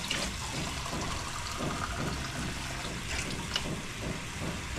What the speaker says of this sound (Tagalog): Tapos sabawan natin konting tubig.